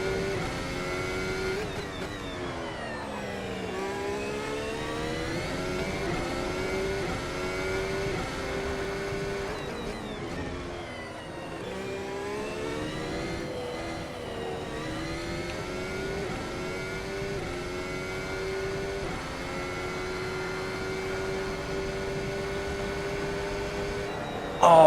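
A Formula 1 car at Imola in the F1 2025 video game revs hard, its engine note rising and falling through repeated gear changes during a flying lap, loud and steady throughout.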